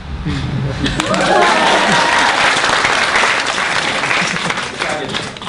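Loud, dense audience applause at a magic show, a sustained roar of clapping from a large crowd that holds steady for the full stretch with some voices underneath.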